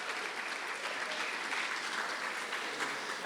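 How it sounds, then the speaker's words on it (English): Steady round of applause from an audience at a 2023 school convocation, dense continuous clapping held at an even level throughout, with no gaps. "we'll make one round of applause just for time"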